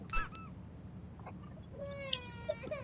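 A cat meows in a video game a few times in quick, drawn-out cries over a steady low hum, fairly faint and with no talking.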